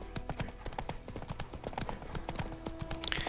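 Horse hooves clip-clop at a steady walking rhythm while riding in The Witcher 3, close and fairly loud over a faint game backdrop, with no talk.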